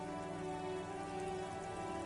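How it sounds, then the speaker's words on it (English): In the video game Disco Elysium, rain falls onto a woodshed roof, a dense, steady patter of drops on the roof heard alone with no voices. "Rain falls onto the roof of a woodshed."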